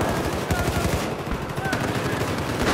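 Rapid automatic gunfire from a BB gun in a video game, a loud, dense burst of repeated shots that fills the whole moment with no pause.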